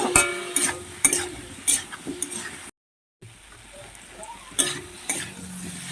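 Spice paste with cumin powder and a little water being stirred and sautéed with vegetables (papaya and potato) in a pan, giving a soft sizzle under repeated scraping strokes of a spoon, close by, broken by a brief silent gap.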